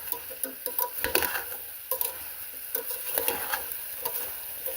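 Onion and celery sauté in a pot for a one-pot chicken dish, a soft sizzle with rapid, uneven scraping and tapping of a spoon stirring close by.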